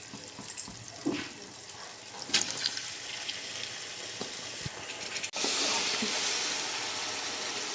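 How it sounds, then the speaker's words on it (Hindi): Chopped tomatoes hitting hot oil in a pan for mutton biryani, giving a steady wet sizzle with a few soft clinks, then a louder, fuller hiss from about five seconds on. "अब मैं इसमें कटे हुए टमाटर डाल रही हूँ।"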